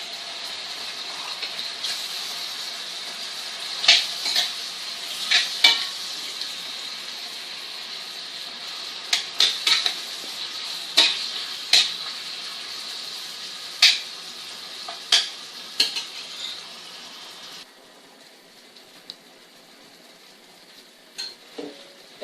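Chicken pieces fry with garlic in a hot pan, a steady sizzle broken by repeated scraping strokes of a utensil as they are stirred, close and fairly loud with no talking.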